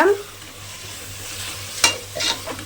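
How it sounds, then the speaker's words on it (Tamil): Biryani masala is stir-fried in a pan for mushroom biryani, with a soft, continuous sizzle and a couple of sharp utensil scrapes against the pan. "இப்போ நல்லா பரட்டிக்கலாம் நான் பிரியாணி மசாலா மட்டும்தான் போட்டிருக்கேன்"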